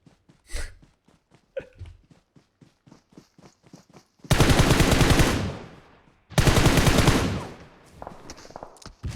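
Automatic gunfire aimed at a tank in the mobile game PUBG Mobile: light footstep-like taps, then two long, loud sustained bursts of rapid shots, each lasting about two seconds.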